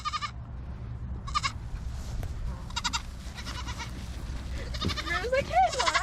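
Goats bleat in a pasture, a series of loud, close calls repeating every second or so over a steady outdoor background, with people talking throughout.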